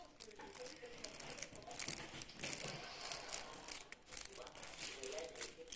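A Speed Duel GX card box being pried and struggled with, giving continuous crinkling, crumpling and tearing of packaging close by, with voices talking over it.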